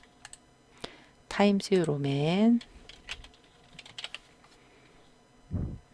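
Computer keyboard typing while entering text in Photoshop, a handful of close, light key clicks scattered through a short stretch, partly under someone speaking Korean.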